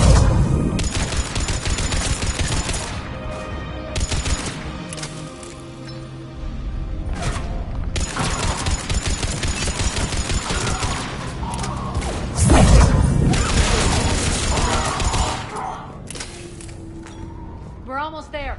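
Turret gunfire from the Mass Effect video game: dense bursts of rapid shots and mechanical clatter fill the whole stretch, loud and close, with a heavier blast near the middle, mixed with battle effects and voices.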